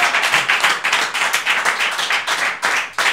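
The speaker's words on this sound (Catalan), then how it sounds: "Un aplaudiment per Marilyn Manson, que entra al búnquer!" Studio audience on a Catalan television show clapping to welcome a guest entering, a close, loud, fast burst of many hands in quick, slightly rhythmic pulses, with no talk over it.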